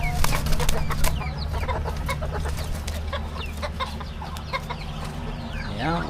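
A Japanese bantam (Chabo) rooster in backyard farm housing clucks repeatedly at close range, a busy run of short, throaty calls over a low steady background hum.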